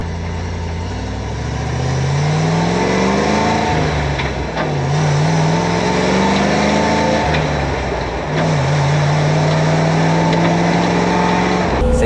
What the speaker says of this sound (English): The gears are very short, the gearbox is sitting right below you, so it's very noisy.